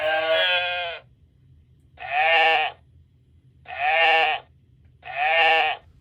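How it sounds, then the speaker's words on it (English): Sheep bleats from a Lionel Big Boy train set's sound effects: four loud, close baa calls, each about a second long and separated by short pauses, over a faint low hum and no talk. "I think they're making sheep sounds."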